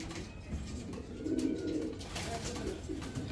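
A Madrazi golla hen pigeon coos nearby, low throaty murmurs rising in a swell near the middle over a few seconds, set against faint background noise.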